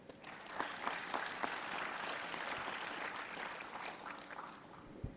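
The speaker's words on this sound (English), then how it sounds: "Please give him a warm round of applause." Audience applause at a plenary session on technology and innovation, a sustained wash of many hands clapping at moderate distance, fairly soft, with no talk over it.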